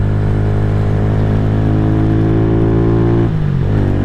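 A KP Mini 150 motorcycle engine fitted with a new Nibbi carburetor and muffler revs steadily and loudly up close, its pitch climbing slowly before a quick throttle dip and a fresh rise near the end.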